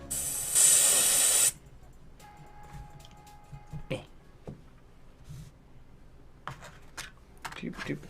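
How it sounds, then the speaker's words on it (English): An airbrush being cleaned while painting miniatures: a loud, close burst of steady spray hiss lasting about a second, followed by quieter clicks, knocks and handling noises from the tool. "Back to cleaning the airbrush."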